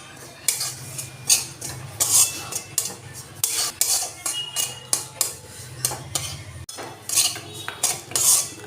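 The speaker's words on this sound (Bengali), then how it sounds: "সুজিটা আমি একটু অল্প করে ভেজে নেব, আমি খুব লাল করে ভাজবো না," Semolina stirred and lightly dry-fried in a wok-style pan, metal utensil scraping and clinking in a steady repeated rhythm, close and fairly loud, with a faint low hum beneath and no talking.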